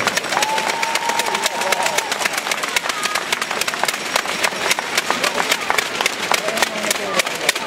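Audience at a basketball game in Kuopio applauds with dense, steady clapping and crowd noise throughout, a voice speaking over it.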